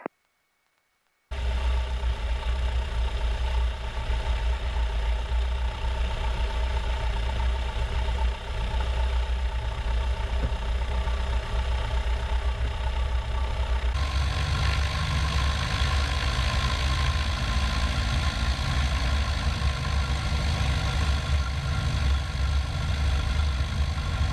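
A Cessna's engine idles steadily before takeoff, a close, continuous mechanical drone whose pitch and loudness shift partway through as the throttle changes.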